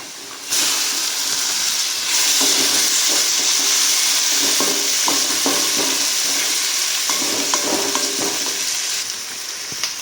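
Onions and tomatoes sautéing in a pan for fried rice, a loud steady sizzle and hiss that sharpens as the vegetables go in, with scraping stirs now and then, no talking.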